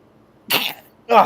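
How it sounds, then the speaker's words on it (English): Two short, sharp bursts of breath, a sneeze-like explosive sound followed by a second voiced burst, close and fairly loud. "Sneeze."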